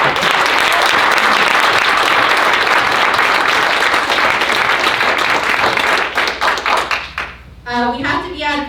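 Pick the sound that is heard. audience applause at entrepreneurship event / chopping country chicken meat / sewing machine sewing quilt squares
audience applause at entrepreneurship event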